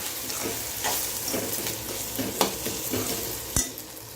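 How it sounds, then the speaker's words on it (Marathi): Spiced eggplant masala sizzles in a pan under repeated close stirring, with soft scraping strokes and a couple of sharper clacks of the spoon against the pan. "पुन्हा एकदा परतून घ्यायचं हलवायचं छानसं"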